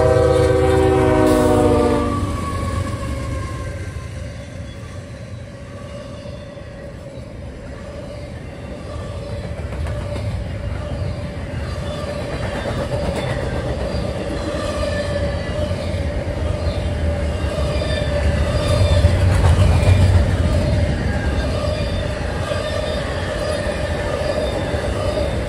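Freight train I017, running from Worcester to Bedford Park, Illinois, passes through Voorheesville with a blast of its horn at the start, then a long steady rumble of rolling wagons and squealing wheels close by.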